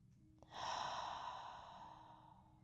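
A single long, slow breath drawn in and released during a yoga breathing exercise, soft and close, a smooth airy whoosh that tapers gradually.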